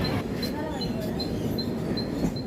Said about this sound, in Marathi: फायनली माझी लोकल येत आहे आणि माझी लोकल आलेली देखील आहे.